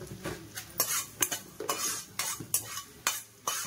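Fenugreek seeds frying in a pan, marked by a series of repeated scraping stirring strokes about every half second over a faint sizzle, close and quiet, without voices.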